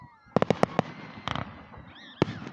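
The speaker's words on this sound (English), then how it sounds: "I'm starting to think fireworks are the best" Canada Day fireworks show: a quick run of sharp, loud outdoor bursts, then a rapid crackling cluster and one more heavy boom, with faint whistling in between.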